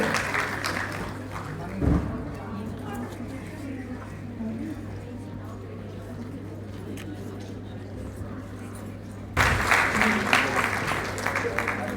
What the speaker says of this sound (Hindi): उनका एक जोरदार ताली के साथ स्वागत करेंगे